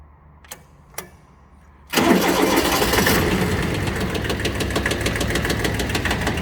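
A Kubota B1400 small three-cylinder diesel tractor engine cranks and catches after two short clicks, then settles into a loud, close, rapidly knocking diesel idle, with no talk.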